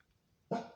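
A single short bark from a dog indoors, sudden and fairly close after near silence, fading quickly.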